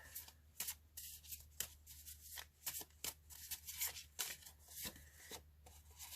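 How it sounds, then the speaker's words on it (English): A pack of paper prompt cards being shuffled by hand, a run of quick riffling and flicking bursts with brief pauses, close and fairly quiet, no talking. "we'll shuffle the pack for week 12"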